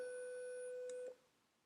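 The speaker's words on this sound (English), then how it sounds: "And a triangle wave." A triangle wave tone from a small DAC speaker controlled with MicroBlocks: a single mellow, steady pitch with only faint overtones, sustained about a second on its own before stopping abruptly.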